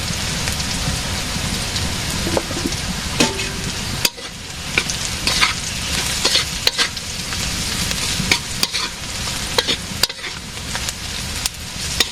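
Onions frying in a pan with turmeric and chili powder in a village kitchen, a steady close sizzle with stirring scrapes and occasional sharp clinks throughout.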